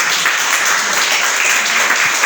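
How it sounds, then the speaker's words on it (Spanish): A church congregation applauds, a dense, steady wash of clapping from many hands that fills the whole moment at a loud, even level. "denle otro aplauso al Señor"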